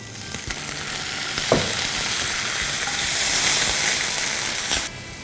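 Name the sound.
onions and green chili frying while stirred in a pan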